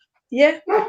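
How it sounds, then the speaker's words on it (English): A dog gives two quick barks close by, each loud and harmonic, with a brief gap between them, right beside a conversation indoors. "I'm sorry about the dog barking."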